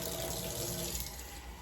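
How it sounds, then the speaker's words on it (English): A thin stream of water runs steadily from a tap as it is added to an icing mixture. The sound is quiet and continuous, with no talking. "I'm gonna add just a titch of water and maybe it'll go on just a little bit smoother."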